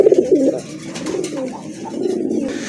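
A pair of Sirazi pigeons coos loudly and close by, the throaty rolling calls strongest at the start and then continuing steadily at a lower level with no talk.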